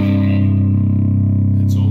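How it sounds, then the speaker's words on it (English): An electric guitar runs through a Pigtone PP-27 compressor pedal, holding a loud, sustained note with gritty distortion in the low end and a brief high scrape at the close. "Distortion on the bottom end."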